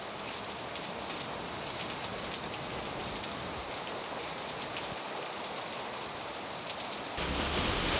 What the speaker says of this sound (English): You can see it is a blowing strong rain.